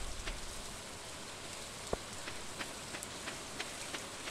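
Steady rain pattering in the farming video game Stardew Valley while exploring the mountain area, a soft even hiss of drops with a few faint ticks and one brief sharp tap, no voices.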